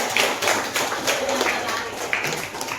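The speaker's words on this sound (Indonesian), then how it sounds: "Tepuk tangan dulu buat Socin." Children applauding in a classroom, a dense burst of clapping that continues throughout at close range, with some voices mixed in.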